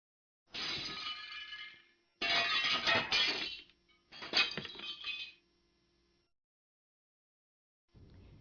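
Chipped and broken glass dropped into a glass-disposal bin at the back of a chemistry lab gives three loud, clattering bursts of shattering clinks close by, then a pause and a brief fourth rattle.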